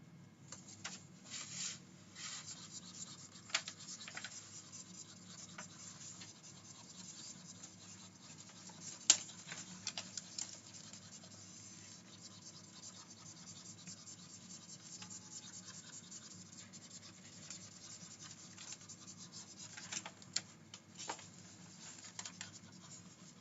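Writing on a classroom board is rubbed out with an eraser during a math lesson on geometric sequences: a faint, steady scrubbing and scratching that runs almost continuously with a few brief sharper strokes, no talk.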